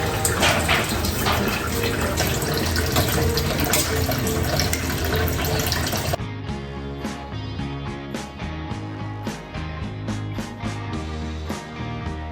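Steady running water pours from a tap into a kitchen sink during washing, loud and continuous, with background music playing throughout.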